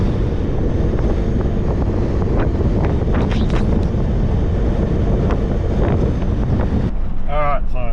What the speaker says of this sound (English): very, very windy outside